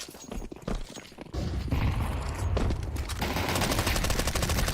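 SMG fire in Counter-Strike 2 on the Anubis map, a dense stream of rapid gunshots that grows louder and more sustained partway through, with scattered thuds and game noise, and no talking over it.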